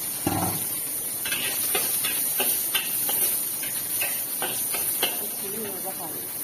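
Ginger and garlic stir-fried in a little oil while preparing pork, a continuous hiss with repeated light scraping and tapping strokes, and a voice speaking briefly over it.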